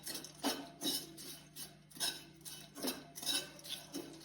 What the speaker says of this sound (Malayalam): ഇത് നല്ലപോലെ ഒന്ന് പച്ചമണം മാറുന്നത് വരെ ഇളക്കിക്കൊണ്ടിരിക്കുക.